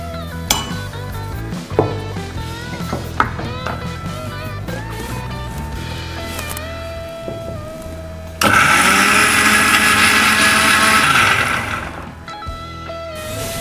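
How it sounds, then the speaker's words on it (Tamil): A mixer grinder grinds a small piece of beetroot with coconut and a little water, its loud steady whir running several seconds before cutting off, preceded by clinks and kitchen handling sounds. "ஒரு சின்ன பீஸ் பீட்ரூட் இது அரைப்படுறதுக்கு கொஞ்சமாக அரைப்படுறதுக்கு கொஞ்சமாக தண்ணி"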